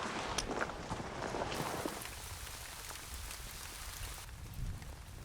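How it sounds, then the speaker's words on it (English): Rain beginning to fall on the summit trail of Mount Roraima, Venezuela, a dense steady patter of drops with scattered sharper hits and some shuffling footsteps, fairly close and unbroken throughout. "This is starting to rain. Yeah, rain's coming."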